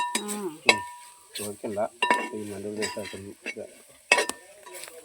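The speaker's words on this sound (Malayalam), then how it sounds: "അതിനകത്തേക്ക് നമ്മൾ മല്ലിപ്പൊടി, മുളക് പൊടി ചേർത്ത് നന്നായിട്ട് വരട്ടിയെടുക്കണം" Masala with coriander powder and chili powder is stirred and fried in a pan over a wood fire for Kerala beef curry, with spoon scrapes and clinks against the vessel over a sizzle, in uneven bursts.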